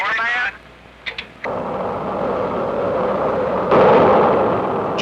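Juno 2 rocket engine igniting at launch after an Army countdown: a brief gap and a few clicks, then a sudden sustained broadband roar that swells louder near the end, heard over an old radio-like channel with no speech.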